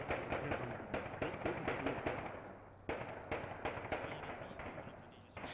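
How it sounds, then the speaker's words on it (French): Bursts of rapid gunfire crackle at a distance inside an embassy, sharp irregular shots in clusters with short pauses between them. "Les coups de feu reprennent au sein de l'ambassade."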